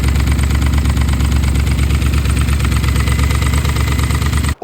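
A BMW E39 540i with the M62 V8, suffering camshaft control faults, runs with a loud, steady rumbling idle and a rapid mechanical clatter throughout, then cuts off abruptly at the very end.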